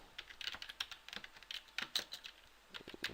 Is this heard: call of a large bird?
no